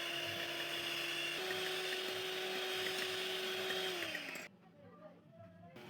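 An electric hand mixer beats three medium egg whites with vinegar or cream of tartar until foamy, a steady loud whirring hum with a shifting tone that winds down and stops near the end, leaving quiet background.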